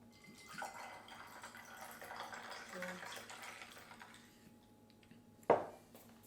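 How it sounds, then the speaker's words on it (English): Grapefruit soda poured to top up a tequila cocktail with lime juice: a soft, faint fizzing pour lasting about four seconds, then one sharp clink near the end. "And then we're going to top it up with a grapefruit soda."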